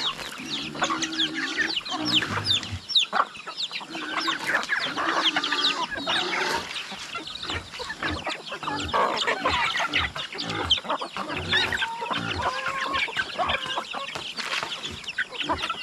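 Chickens being fed cluck and squawk busily at close range, a dense flock chattering with overlapping calls and occasional louder cries throughout.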